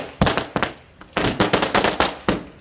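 A string of firecrackers going off outdoors: about eight loud, sharp bangs in quick, uneven succession, each with a short crackling tail.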